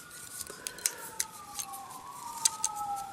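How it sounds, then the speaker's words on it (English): Police car sirens pass outside, a faint wailing tone sweeping slowly up and down in the background, with scattered sharp clicks and taps from handling plastic parts up close. "I don't know if you hear those sirens in the background, but there are police going by."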